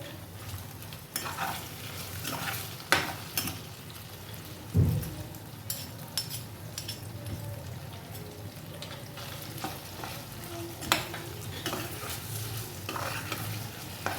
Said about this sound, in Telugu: ఈ వెల్లుల్లి కారం ఆయిల్లో వేగుతూ ఉంటే దీని పచ్చి వాసన పోతుంది